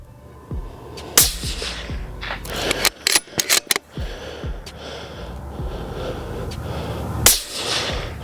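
Rifle shots with factory 140-grain ammunition, fired through a recoil device at a target 574 yards out. Several sharp reports sound close, with a cluster of quick cracks in the middle, set over a steady outdoor rumble.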